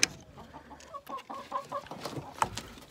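Backyard chickens cluck in a coop at close range, a rapid run of short, pulsing clucks with a few sharper calls, lively and uneven.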